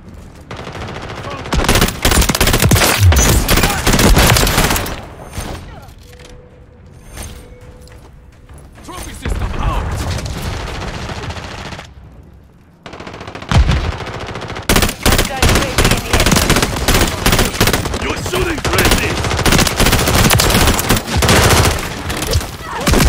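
Rapid, loud automatic gunfire in Call of Duty MW3 multiplayer on the Shipment map, in dense continuous bursts with brief lulls, mixed with game sound effects and voice callouts.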